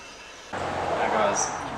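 An air blower starts abruptly and roars steadily as it dries a ceramic-coated car around cracks, crevices and wheels, a loud close rushing whoosh.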